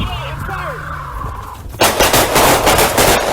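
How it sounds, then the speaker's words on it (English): Rapid gunshots fired during an arrest of a fleeing armed fugitive, a sudden loud burst of close, repeated shots cutting in after shouted voices and continuing to the end. "Shots fired!"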